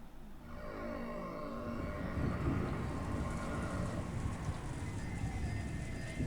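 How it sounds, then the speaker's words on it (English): Rain falls as a sound effect in the visual novel Umineko during a typhoon on an island, a dense continuous hiss that swells slightly and holds steady, with no voices. "When I woke up, it had already started raining"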